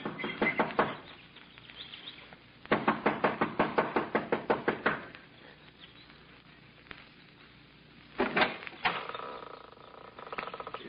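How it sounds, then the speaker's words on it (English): Rapid, impatient knocking on a lodge's wooden front door, sounding in three bursts of quick raps separated by pauses, fairly close and clear over a quiet background. "She knocks impatiently"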